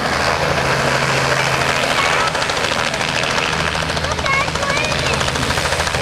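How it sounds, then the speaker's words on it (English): Robinson R44 helicopter coming in to land at a rotorcraft festival, a steady loud engine and rotor drone throughout with a low hum, busy and close, without any clear speech. "Robinson coming in for a landing."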